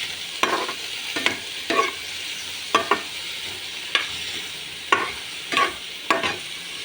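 Shrimp stir-fried with onion, garlic and broccoli, giving a steady sizzle broken by repeated scraping strokes of a utensil about once a second, close and fairly loud with no talk.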